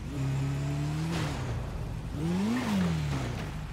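Motorbike in GTA 5 revving and accelerating during a parkour race, the engine tone climbing, dipping, then rising again in a second surge, close and continuous.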